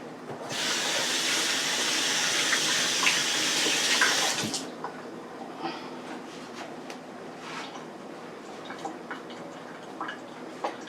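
A kitchen tap runs briefly for washing hands, a loud steady water rush for about four seconds that cuts off, followed by quieter scattered drips and small handling sounds.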